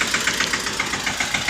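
A tractor engine idles on a farm with a steady, rapid diesel knocking pulse that runs close and fairly loud throughout, with no voices.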